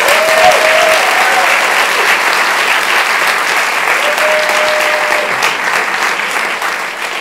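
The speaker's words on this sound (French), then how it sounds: "On peut l'applaudir" An audience gives Adrienne de la Vega a long round of loud, sustained applause, dense and steady throughout, with a few voices and a faint tonal sound rising briefly above the clapping.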